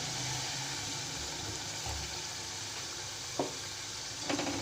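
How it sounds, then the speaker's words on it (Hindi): Steady loud sizzling and frying as half a glass of water is poured onto browned minced meat in a hot pan, with a couple of brief splashy bursts near the end. "आधा गिलास पानी डालूंगी।"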